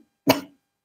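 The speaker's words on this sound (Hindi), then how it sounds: "सॉरी आज की पता नहीं खांसी उठ रही।" A single short, sharp cough rings out close and alone, with silence before and after.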